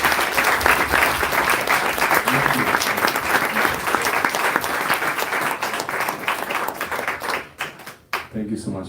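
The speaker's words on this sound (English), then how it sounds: "We can give a warm round of applause." A warm round of audience applause at a London studio gathering honouring a guest, loud and dense clapping from a crowd sustained for about seven seconds before thinning out.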